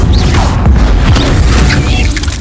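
Incendio fire spell cast in Hogwarts Legacy, a loud, dense burst of booming, crackling game effects that holds steady for a couple of seconds amid busy combat noise.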